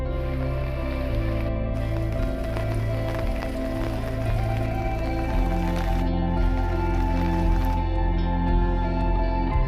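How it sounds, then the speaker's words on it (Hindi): Steady heavy monsoon rain in the mountains, a dense continuous wash of patter and dripping with no pauses, close and fairly loud throughout, with low rumbling underneath and no voices. "बारिश के कारण तेज़ बारिश लगी है"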